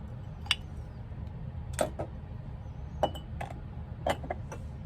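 Light clinks of a glass piece being handled, a few sharp taps spaced apart over a low steady background hum, close and fairly quiet with no talk.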